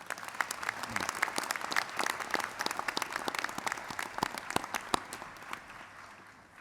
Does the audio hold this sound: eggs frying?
no